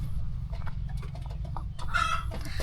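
A sick native rooster on a virus-stricken village poultry farm gives a brief cluck and call over a steady low background hum, mid-distance and fairly loud.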